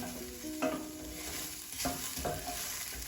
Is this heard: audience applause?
no